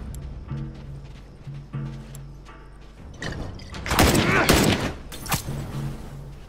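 A loud burst of rifle gunfire erupts in The Last of Us multiplayer, several sharp cracks clustered near the middle and one more shot shortly after, over rhythmic thumping and game background noise.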